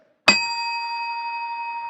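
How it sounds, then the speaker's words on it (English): A single bell dings once at a candidate forum to mark the end of speaking time, a sharp bright strike that rings on steadily and fades slowly, with no talk over it. "we will ding a bell when your time is up"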